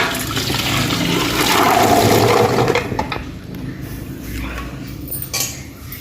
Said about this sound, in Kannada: ಈಗ ಇದನ್ನು ಸೋಸುವ